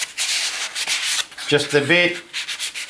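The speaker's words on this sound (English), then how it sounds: "I suppose I could give me a bit of sandpaper, ease the edges on that." Wood edges are hand sanded with a flexible Mirka contour sanding pad, giving quick, close, scratchy rubbing strokes in an uneven rhythm, with a brief voice in the middle.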